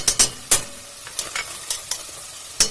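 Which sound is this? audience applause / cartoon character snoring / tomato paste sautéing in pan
tomato paste sautéing in pan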